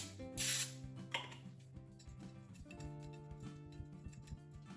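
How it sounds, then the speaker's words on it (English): A short hiss of cooking spray coats a baking pan, a brief burst near the start and a second smaller puff, with clicks and faint tonal background sound continuing afterward. "Now we grease the baking pan."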